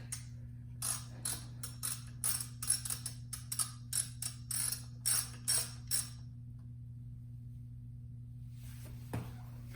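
A 13/16 socket on a ratchet wrench backs a nut off a 2022 Can-Am Renegade 1000 XMR. Rapid close-up clicking comes in repeated bursts over a steady hum, then there is a pause and one brief clank.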